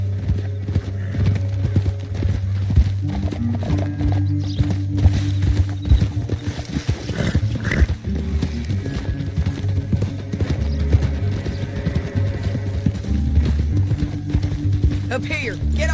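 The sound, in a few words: horse hooves galloping, from Red Dead Redemption 2 video game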